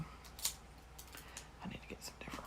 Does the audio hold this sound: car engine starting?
no